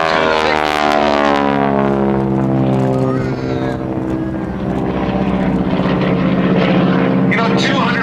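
A propeller-driven airplane at the 2011 Blue Angels Homecoming Airshow drones loudly and steadily overhead, its engine pitch sliding lower as it passes, with an announcer talking over it.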